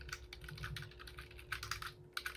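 Rapid, uneven keystrokes clatter on a computer keyboard at close range, with a brief pause before the typing resumes in short bursts over a faint steady hum.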